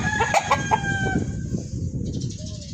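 A rooster crows nearby, a loud drawn-out call trailing off, followed by softer clucking and faint background noise.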